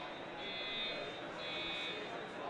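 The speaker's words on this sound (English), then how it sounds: "the alarm is still buzzing" A fire alarm buzzes steadily during a curling game in an arena, a continuous high electronic tone pulsing faintly over a constant crowd and hall murmur.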